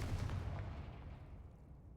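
Confringo fire spell blast in Hogwarts Legacy: one loud, deep booming burst that rumbles and slowly fades over about two seconds.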